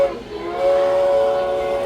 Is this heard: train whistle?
yes